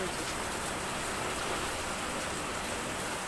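Heavy, sudden rain pours down outside in a dense, continuous hiss that stays loud and unbroken throughout.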